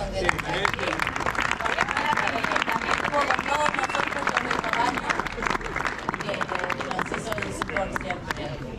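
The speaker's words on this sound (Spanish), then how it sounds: "a la María Inches, que no está, también le vamos a dar un aplauso" An audience at a padel tournament opening claps in a sustained round of applause, with crowd chatter and voices mixed in beneath the steady patter.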